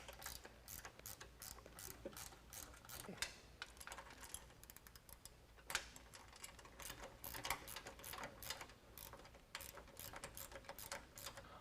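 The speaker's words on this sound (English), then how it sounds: "using a 10mm, we're going to attach it to the nylock on the support bracket" A ratchet with a 10mm socket clicks steadily as it tightens a nylock nut on the support bracket of stainless curved nerf bars being fitted to a 2009–2018 Ram 1500, with dense rapid pawl clicks and a few louder knocks, close and without talk.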